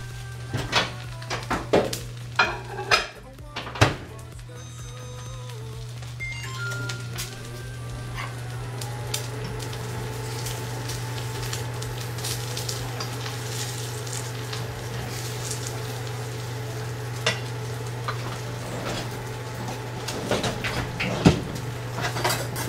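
Leftover supper food warming and sizzling in a pan, a steady frying hiss over a low constant hum, with a few louder clatters and bumps of cookware early on.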